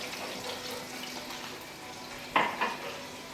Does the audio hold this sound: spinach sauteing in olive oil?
yes